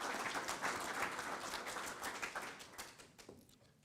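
An audience at a Nashville community event applauds a man who works for Metro, a dense burst of clapping that gradually thins out and fades toward the end.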